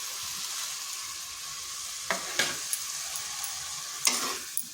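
Taro pieces dropped into spice paste frying in oil in a wok, giving a low steady sizzle broken by a few sharp clattering splashes and bursts of hiss as the pieces land and are stirred.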